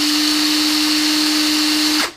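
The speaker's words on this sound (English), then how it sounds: "this is a charged NiCad, putting it in my drill, and if you listen, you get that." DeWalt 18V cordless drill powered by a charged NiCad battery, running at a steady high-pitched whine for about two seconds, then spinning down quickly as the trigger is released. Loud and close, with no voices.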